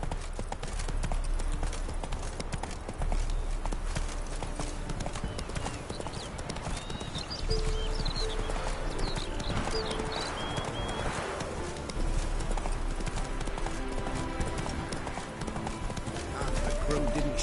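Horse hooves clip-clop at a steady gallop in the video game The Witcher 3, loud and continuous against a dense game soundscape, with a neigh and faint bird calls mixed in.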